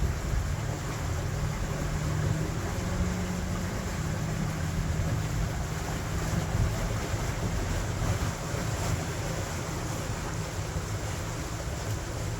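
A boat cruises along the Trent Severn Waterway, producing a constant low engine drone mixed with rushing water and wind buffeting the microphone, steady and loud throughout with no voices.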